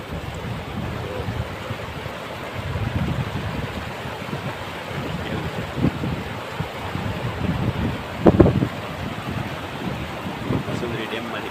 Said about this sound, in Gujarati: પાણી આવેલું જાય છે ધીમું ધીમું